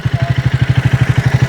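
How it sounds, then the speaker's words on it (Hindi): A Triumph Speed 400 motorcycle idles close to the exhaust, a loud, even run of rapid low thumps at a steady rhythm with no voices. "इस हिस्से से मुझे थोड़ा सा क्रैकलिंग साउंड सुनाई देता है।"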